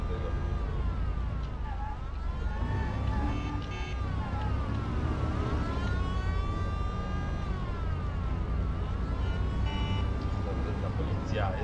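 Police sirens wail through the Mafia video game, their pitch rising and falling repeatedly over a steady background of city and engine noise, with people talking throughout.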